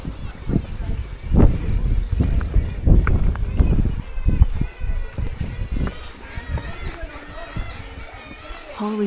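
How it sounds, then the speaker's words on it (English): Thin, repeated high-pitched chirps of baby birds crying in a nursery rise over footsteps and movement, continuing steadily through the scene. "That bird sounds like it's crying."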